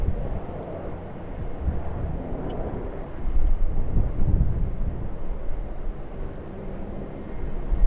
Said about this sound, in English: Rex sub 340 heading off runway 25